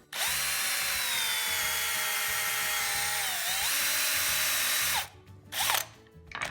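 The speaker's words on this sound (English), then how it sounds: "When we drill, we want to make sure that everything goes nice and straight and from the center" A power drill whines steadily for several seconds as it bores through a wooden dowel peg, its pitch dipping briefly under load, then stops, followed by a few clunks and rattles.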